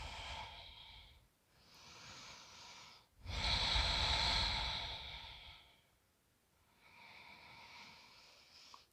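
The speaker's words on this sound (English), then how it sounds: "Take a few more breaths here." Slow, deep breathing during a full-body yoga stretch: long airy inhales and exhales with audible nasal rushes, one fuller breath in the middle, near and soft with pauses between, no talking.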